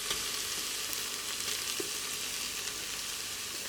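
Crushed garlic fries with onions in a pan, giving a steady, even hiss of sizzling oil throughout, close and moderately quiet, with faint stirring and no voices.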